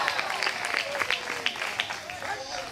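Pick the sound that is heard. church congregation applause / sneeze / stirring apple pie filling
church congregation applause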